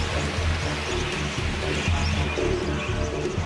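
A flock of wild budgerigars chatters at a watering spot in a dense, continuous mix of soft chirps and warbles, close and steady throughout.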